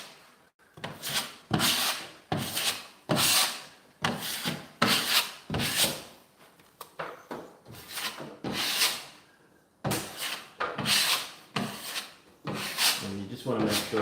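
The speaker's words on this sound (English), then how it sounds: "sanding with a new sander, a wallboard tools sander" A Wallboard Tools sander scrapes over drywall in repeated rhythmic strokes, each rasping pass close and fairly loud, separated by brief pauses.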